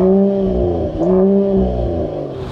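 A Mercedes-AMG GT 53 with the AMG performance exhaust and dual stainless steel pipes revs up in repeated throaty rises and drops, loud and close, a clear engine note climbing and falling twice.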